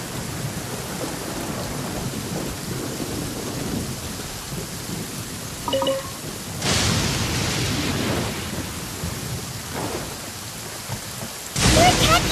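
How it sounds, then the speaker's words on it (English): Thunderstorm with steady rain in the Raiden story quest of a video game, a continuous rain hiss broken by two loud rolling thunder cracks, one midway and one at the end. "Many people dread the sound of thunder. To me, it sounds fondly familiar."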